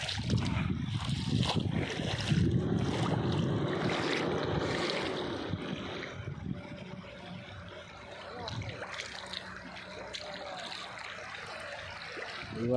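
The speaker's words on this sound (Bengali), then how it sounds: "এবার দেখো আসল স্রোত, প্রচুর স্রোত এই জায়গাটাতে। প্রচুর জল যাচ্ছে এই জায়গা দিয়ে" A strong river current flows in a steady rushing wash with gusty wind, heard from a boat, moderately loud and continuous without talk.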